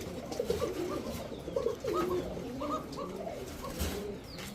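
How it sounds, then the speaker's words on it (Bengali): Giribaz high-flyer pigeons coo softly and repeatedly, several low rolling calls overlapping close by against a steady background hum, at a pigeon sale. "দুই জোড়া কবুতর দেখেন"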